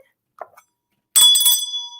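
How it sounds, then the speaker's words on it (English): A hand bell rings bright and loud after a brief soft noise, its metallic clang sustaining with a shimmering decay for about a second. "Miss Gina got the bell, honey"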